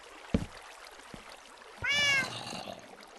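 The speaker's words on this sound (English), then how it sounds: "What the hell is there a cat in this cave?" Inside a Minecraft cave, a single clear cat meow rings out after a sharp click, with faint dripping water and cave ambience around it.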